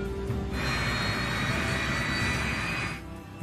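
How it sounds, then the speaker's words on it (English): A Yak-42 jet engine spools up, its rising whine and broadband roar building fast and holding steady under a constant low rumble of the aircraft, with no talk. "The crew starts the Yak's 3 engines."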